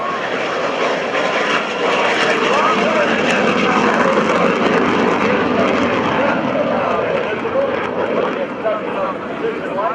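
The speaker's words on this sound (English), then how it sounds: "Is the afterburner that gives away, along with the sound, the position of the aircraft" A jet aircraft with afterburner roars steadily and loudly overhead at an air show, a broad constant rumble with a voice talking over it.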